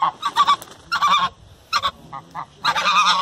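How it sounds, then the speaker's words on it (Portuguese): Geese honk loudly and close by in harsh, repeated bursts, several calls overlapping in quick irregular runs with brief pauses between them. "Olha o ganso, galera."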